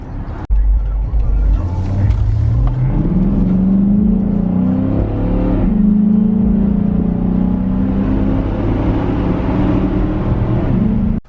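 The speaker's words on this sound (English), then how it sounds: "So right now we're just gonna go ahead and brake in the brakes." An R32 Nissan Skyline is driven while its new brake pads are bedded in. A loud, steady engine drone is heard from inside, rising and falling with a couple of shifts in pitch, and it cuts off abruptly at the end.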